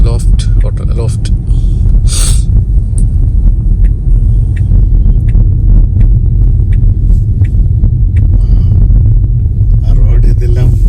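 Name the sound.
Lucid Air sedan driving past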